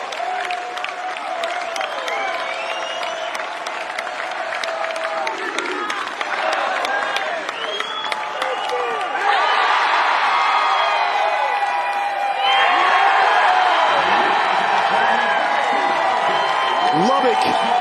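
Stadium crowd at an NCAA baseball tournament game between UConn and Oklahoma State, roaring, cheering and whooping steadily, the noise swelling louder twice with rising cheers and applause.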